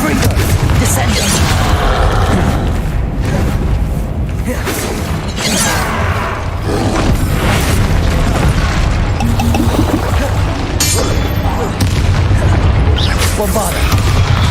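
Bombarda and Confringo spell explosions in the Hogwarts Legacy video game boom one after another, heavy crashing blasts and clattering debris over dense, loud game noise, with speech mixed in.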